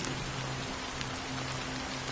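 Rain in the Honkai Star Rail video game falls as a steady, dense hiss of drops on surfaces, constant and moderately loud with no voices over it.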